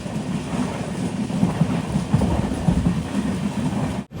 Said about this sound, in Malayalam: ട്രെയിൻ ഇപ്പോൾ വെർണ എന്നുള്ളൊരു സ്റ്റേഷനിലേക്ക് ഇതാ എത്തുകയാണ്.